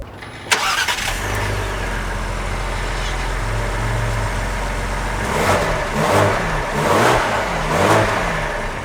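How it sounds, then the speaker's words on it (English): A 2020 Ford Explorer ST starts and pulls away, with a low steady engine hum followed by rising revs as it accelerates, close and prominent. "let's take the Explorer ST out to see how it drives"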